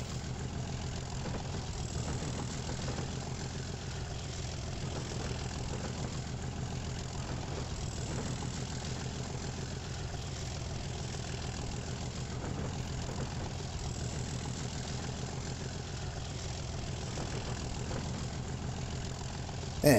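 A diesel locomotive engine in the Transport Fever game, on a UK and Ireland map, idles with a steady low rumble and hum that holds evenly at moderate level throughout, with no talk over it.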